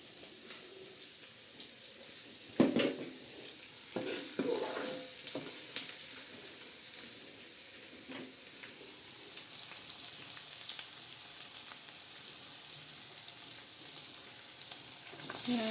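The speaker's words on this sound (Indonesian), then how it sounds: "Nah, kita tumis labu dan juga pepaya muda ya." Pumpkin and young papaya stir-frying in a pan, with a steady low sizzle and a few louder clatters of stirring near the start, mostly alone and fairly quiet.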